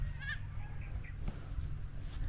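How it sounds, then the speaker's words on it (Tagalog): Small goats give a short, high bleat near the start, then quieter bleats follow over steady low rumble and outdoor background noise on a farm. "Yung maliliit na kambing."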